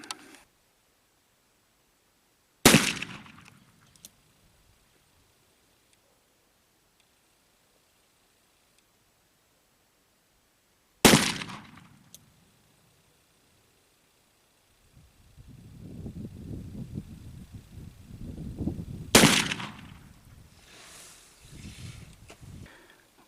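Three sharp, loud shots from an 1858 Remington Navy revolver fired at a target, spaced several seconds apart, each a crisp crack with a short decaying tail, with faint rustling and handling noise after the second.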